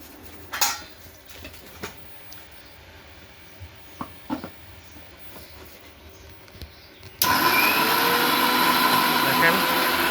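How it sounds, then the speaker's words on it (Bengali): A blender running on a solar power system starts abruptly partway through, a loud steady whir after a few quiet clinks and handling knocks. "আজকে আমরা বিদ্যুৎ ছাড়াই ব্লেন্ডার চালিয়ে দেখাবো সোলার সিস্টেমের মাধ্যমে"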